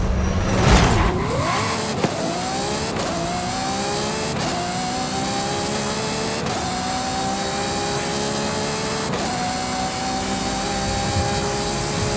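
A 2010 Ferrari 599 XX in Forza Horizon 5 roars loudly and steadily at high revs, its pitch climbing through repeated gear shifts with brief dips at each change, up close and alone.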